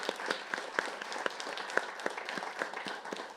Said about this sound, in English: can I give them another round of applause?